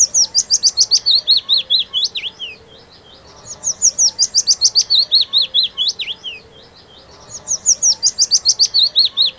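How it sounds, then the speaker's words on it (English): Willow warbler song: three bright, descending cascades of sweet repeated notes, each phrase separated by a short pause, loud and clear against a quiet background. "the willow warbler has a more musical, repetitive cascade of notes"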